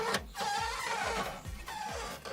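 A 4x4 on a rough Namibian desert track gives off a rhythmic, repeated squeak, about four evenly spaced squeals over a low rumbling drive.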